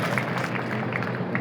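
An audience applauding to welcome a speaker at a Dr. Ambedkar birth anniversary celebration in Ashta, a steady wash of many hands clapping, moderately loud and continuous throughout.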